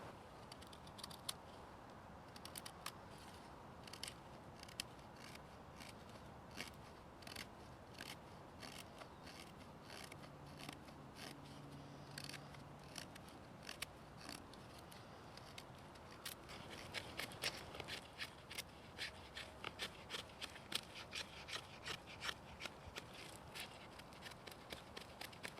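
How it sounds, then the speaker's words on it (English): An SCHF3N knife carves fine shavings from a piece of batoned wood, giving quiet, rapid scraping strokes and ticks that repeat in an irregular rhythm, close up but faint. "we're going to get some shavings off one of the pieces of wood that we just batoned"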